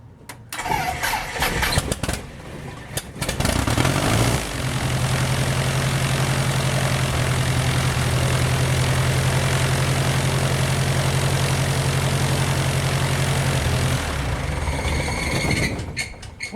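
A RANS S21 light aircraft engine cranks and sputters for a few seconds, catches, then settles into a steady, loud idle before cutting out near the end.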